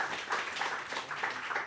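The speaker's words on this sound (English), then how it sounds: "So give applause to Mr. Professor Johanes Widodo." Audience applause at a Singapore think-tank talk on retail and urban design, a brief burst of steady hand clapping from a crowd lasting under two seconds.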